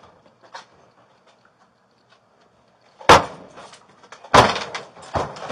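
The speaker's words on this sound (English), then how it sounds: "we will kick in your door" Police force entry at a house, with heavy impacts against the front door. After a quiet stretch come two loud, close blows a second apart and then a third, each followed by rattling and clattering.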